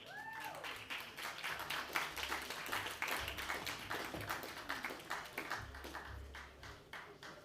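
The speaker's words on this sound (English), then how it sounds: "Please give them a big round of applause." Conference audience applause at a clean transport session during a climate summit, a fairly quiet, continuous patter of clapping with low musical tones running beneath it.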